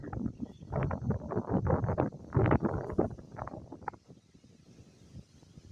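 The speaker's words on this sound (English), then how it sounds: "It's really windy today." Gusty wind buffets the microphone in loud, rough bursts for several seconds, then eases to a lower rumble near the end.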